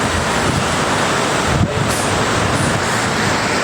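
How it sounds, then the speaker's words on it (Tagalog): Heavy rain pours down steadily near an airport, a dense, loud, unbroken hiss with a rushing, wind-like roar close to the microphone. "Lakas ng ulan dito"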